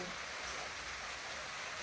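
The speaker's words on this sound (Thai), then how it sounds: "นี่ก็ฝนตก" Rain falls steadily as a dense, even hiss with no breaks, and no voices are heard.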